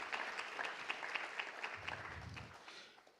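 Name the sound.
audience applause welcoming panelist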